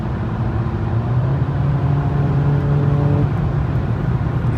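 A 2020 Jeep Compass Trailhawk engine accelerating from inside the cabin, a steady loud drone with a rising tonal whine that holds, then fades near the end, with no talking.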